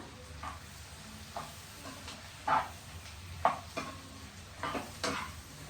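Fried eggs being stirred into green chilli masala in a pan, with a soft background sizzle and several separate scrapes and clinks of a spoon against the pan at an uneven pace, close and quiet.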